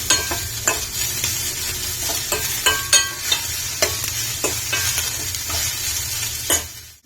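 Green beans, onion and green chilli being stirred in a frying pan for Kerala beans thoran, with a steady sizzle under repeated utensil scrapes and clinks close by, no voices.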